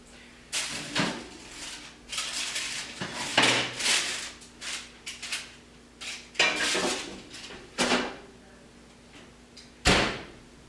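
Garlic bread on a tray coming out of a home oven: a series of sharp metallic clanks and knocks of pans, oven door and rack, spaced irregularly, fairly close, with a faint steady hum underneath.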